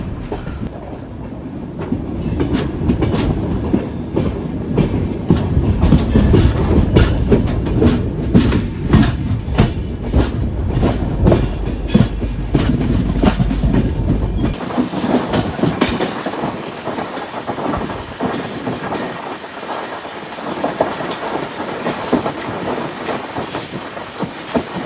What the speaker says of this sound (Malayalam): ആ കാർ ക്യാരിയറിൻ്റെ ലോക്കോ ഉണ്ടോ, WAG12 ആണ്, സബർമതിയുടെ.